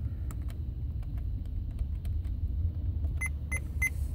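Buttons on a Honda car radio pressed one after another to enter a code inside the car, soft clicks over a steady low engine-like rumble, followed by a few short bright beeps near the end.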